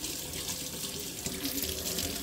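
Food is washed under a running kitchen tap, with a steady close hiss and splash of flowing water into the sink throughout and no talking.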